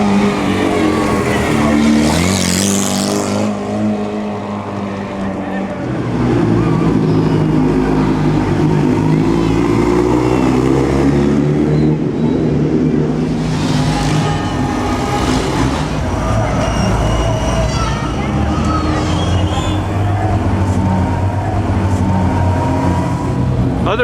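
A Mercedes 300 SLR race car roars past at the 2008 Mille Miglia, its engine loud and close as it rises and fades, with voices mixed in over the road noise.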